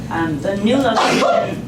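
A single sharp sneeze bursts out during a community development meeting, landing in the middle of a speaker's ongoing talk about a new kitchen location.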